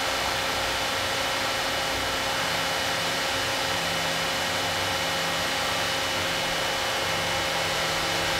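An Icon Industries 440-ton hydraulic press pressing at slow speed gives a steady, dense, broadband whir with faint low hum, continuous and close throughout.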